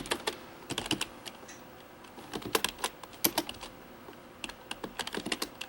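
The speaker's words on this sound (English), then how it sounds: "Nothing quite so painful as watching someone else type" Fingers typing on a computer keyboard, quick irregular bursts of crisp key clicks separated by brief pauses, close and fairly quiet with no voices.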